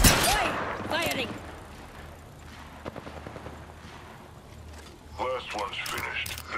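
Automatic weapon fire crackles in Apex Legends during a ranked match, with short bursts of rapid shots at moments under a player talking over voice chat.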